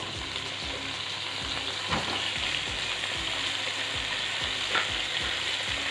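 Brinjal sautéing in oil for a traditional Tamil oil brinjal curry, with a constant sizzle and repeated close scrapes of a spatula stirring the pan, two slightly louder strokes standing out.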